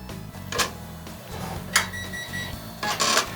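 Bernina E 16 embroidery machine stitching an applique outline on fabric in a hoop: a steady mechanical chatter of rapid needle strokes, close and fairly loud, with a few brief louder clicks and no talking.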